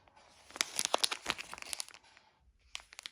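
A plastic packet holding a pair of Jack & Jones men's cotton boxer briefs crinkles close up. The bursts come in a busy run, then pause, then come in a shorter flurry.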